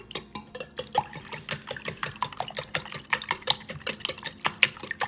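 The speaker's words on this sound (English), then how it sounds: "now we're gonna go ahead and whisk our eggs" Eggs are whisked in a bowl with a quick, steady rhythm of sharp metallic taps and swishes, close and clear, with no talking.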